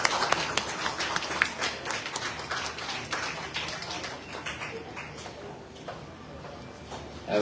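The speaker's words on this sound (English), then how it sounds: "Clap, clap, clap." Audience applause at a book launch and forum in Malaysia: a dense, steady patter of many hands clapping that thins and softens in the second half.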